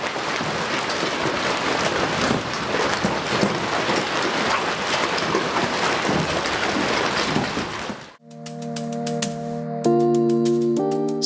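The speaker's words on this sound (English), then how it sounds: "Just an average hailstorm in Australia with hailstones the size of tennis balls" A hailstorm in Australia, with tennis-ball-sized hailstones pelting down in a dense, steady roar of impacts for about eight seconds before it cuts to music.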